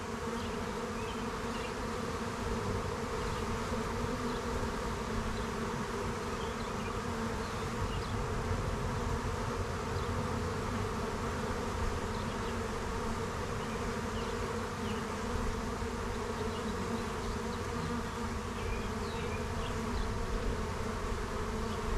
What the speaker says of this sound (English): hopefully we see some fanning here soon, which will indicate that the queen is in her new deep frame box